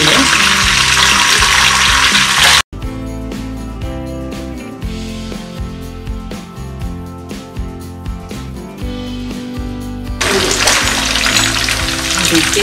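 Soya garlic veg kababs fry in a pan with a loud, dense sizzling hiss that drops after a brief cut, stays softer for a while, then swells again near the end.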